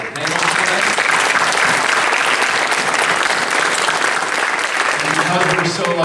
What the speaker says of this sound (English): I want to do 2 quick rounds of applause here, one for our incredible panel today